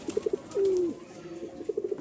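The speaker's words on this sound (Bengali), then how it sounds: "এক জোড়া কবুতর দেখতে পাচ্ছেন" A pair of pigeons, a light-coloured hen and a cock of a Rajshahi high-flyer breed, coo close by: short soft bursts, one long drawn-out coo, then more quick coos, with no one talking.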